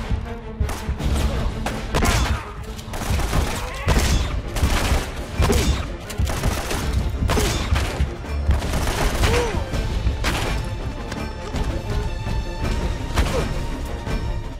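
Repeated sniper gunfire in the action-adventure game Uncharted: Drake's Fortune, sharp shots and impacts bursting throughout over a dense, loud stretch of game combat and music.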